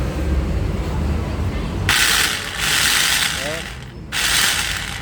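Makita chipping gun under repair test, giving a loud, rapid rattling hammer burst in two runs separated by a pause, over a constant mechanical background hum.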